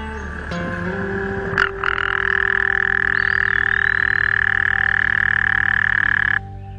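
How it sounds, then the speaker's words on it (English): An American toad calls with a long, steady high-pitched trill that holds for several seconds, loud and close, before stopping abruptly. "American toads have very noticeable calls."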